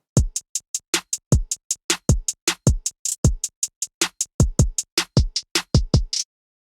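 A crisp electronic drum beat with kick drums and steady, fast hi-hat ticks filling the gaps between hits, ending abruptly after about six seconds.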